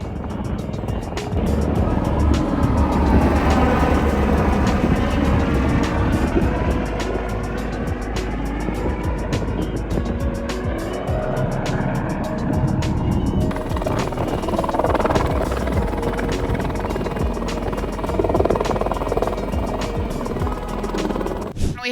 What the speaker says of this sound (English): See helicopters coming in